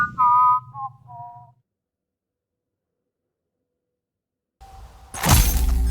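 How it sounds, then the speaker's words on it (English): A robot in the video game Everreach Project Eden whistles a short melodic phrase of a few falling notes, then goes silent before a loud crash and shattering burst comes in near the end. "Engaging whistling subroutine."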